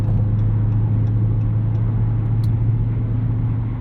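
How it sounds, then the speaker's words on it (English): Steady low drone of a 2023 Dodge Charger SRT Hellcat Jailbreak, 717 hp, cruising in high gear on the highway at about 70, a constant engine and road rumble heard from inside the car, with no talking. "I'll just cruise in there in 7th gear into 8th gear"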